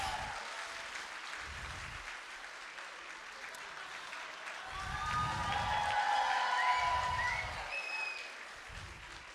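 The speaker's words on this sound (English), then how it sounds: "I just want to get a round of applause for Priti and Vivek." Guests at a wedding reception at White Oaks Resort, Niagara-on-the-Lake, break into sustained applause that swells midway with a few whoops, dense and fairly loud across the room.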